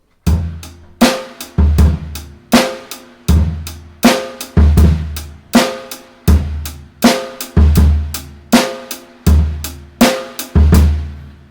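A drum kit plays a steady groove with sixteenth-note bass drum, sharp kick and snare hits, and straight eighths on hi-hat or ride cymbal in an even repeating pattern, close and punchy, no talking.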